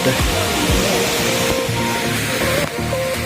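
A waterfall roars in a steady, close rush of water, with a voice faintly audible beneath the noise.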